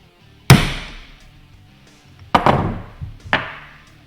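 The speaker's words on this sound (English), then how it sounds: "we're just going to have to tap, or try to tap this bearing down back over top of it" Three sharp metallic taps, a single strike then a pair about a second apart, as a 14 mm socket drives a bearing down onto a pump shaft during a water-methanol injection pump rebuild, close and ringing briefly.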